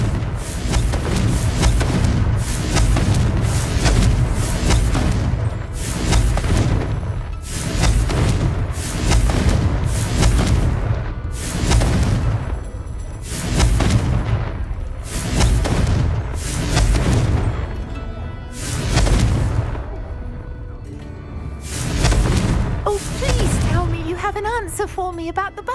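Repeated booming blasts of the Confringo explosion spell in the Hogwarts Legacy game, a string of heavy thudding detonations in quick succession, loud and close, with voices talking amid the bursts.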